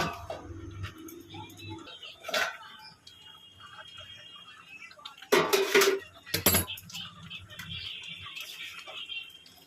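A cooking pot of prawn malai curry (golda chingri) gets a spoonful of ghee and then a lid, giving a few sharp metallic clinks and a short clatter of the lid against the rim over quiet kitchen background.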